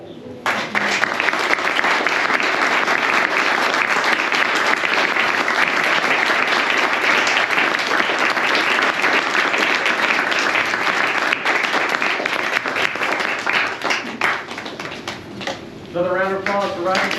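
An audience applauds after a poetry reading, a dense and sustained burst of clapping filling the room. A voice speaks near the end as the clapping thins out.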